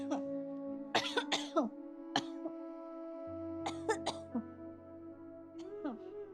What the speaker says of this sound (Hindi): तुझे ना कितनी खांसी हो रखी है